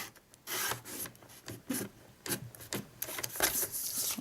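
A bladed paper trimmer slices through card for a papercraft treat holder. Repeated close rasping strokes follow one another in an uneven rhythm.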